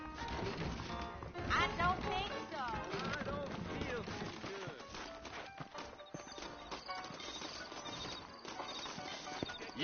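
Horses' hooves clip-clop in the opening of Red Dead Redemption, a steady rhythmic plodding mixed with a whinny and game music, while characters talk over it throughout.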